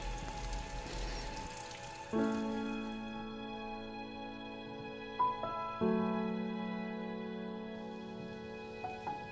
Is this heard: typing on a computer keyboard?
no